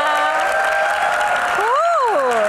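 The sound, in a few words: audience applause in TV studio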